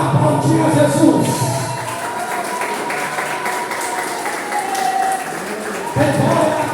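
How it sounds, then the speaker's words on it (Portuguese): A church congregation applauds during a Baptist service in São Paulo. The clapping is a steady, dense wash filling the room, with a voice continuing over it. "Tem pode aplaudir a Jesus."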